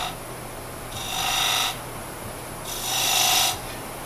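A sharp diamond tool scrapes detail rings into the bottom of a turned wooden bowl, making two distinct rasping strokes, each about a second long, over a steady background hum.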